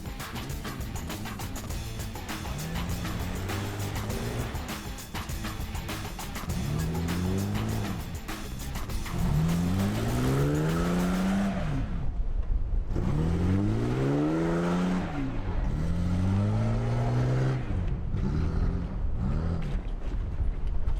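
A Toyota LandCruiser 200 Series 4WD in a convoy crawls over wet coffee rock on Fraser Island, the engine revving up and down in repeated surges under heavy, steady wind noise.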